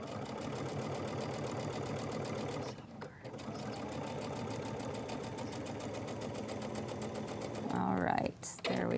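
A sewing machine stitches the seam of a fabric postcard, its rapid steady chatter running almost continuously, with a short pause midway and a stop near the end, while a person talks over it.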